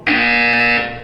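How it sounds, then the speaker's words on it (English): In Portal 2, a single loud, harsh electronic buzzer sounds for about one second, steady and flat, then cuts off abruptly. No speech. "You will hear a buzzer."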